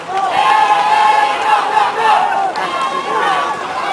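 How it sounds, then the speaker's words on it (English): Crowd on the riverbank yelling and cheering at a dragon boat race, a loud, continuous roar of many voices with rising shouts, close and intense throughout. "See, they're yelling."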